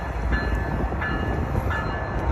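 A BNSF freight train rolls past at moderate distance with a steady, loud rumble of railcars and faint rhythmic wheel clicks.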